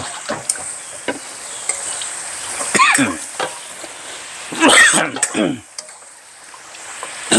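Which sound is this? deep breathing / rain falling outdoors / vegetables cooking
vegetables cooking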